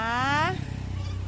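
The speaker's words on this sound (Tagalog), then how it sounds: "Ayan yung mga pusa namin" A single drawn-out cat meow rises and falls, followed by a low rumbling engine-like drone.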